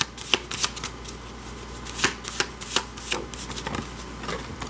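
Tarot advice cards being shuffled close up, with quick riffling bursts and soft slaps of the deck, loud and alone.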